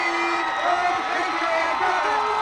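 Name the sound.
crowd cheering at high school football game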